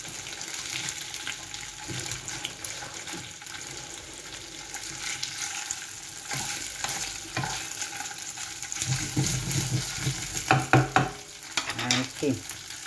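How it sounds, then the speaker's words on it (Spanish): Blood sausage fries in a black pan with a steady sizzle, broken by the scrape and clatter of stirring that grows busier toward the end. "Que se fría. Un poquito."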